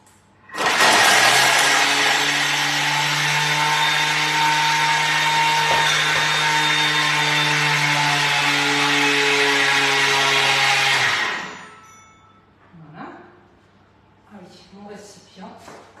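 Thermomix mixing financier batter at speed 10 for ten seconds, a loud steady high-pitched motor whine that starts abruptly, holds evenly and then winds down, followed by quiet handling noises.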